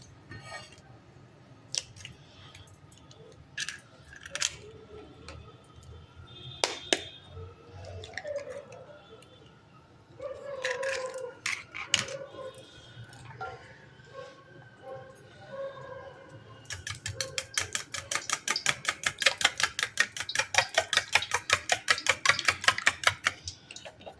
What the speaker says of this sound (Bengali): আমি এখানে ডিমটা ফেটিয়ে নিই।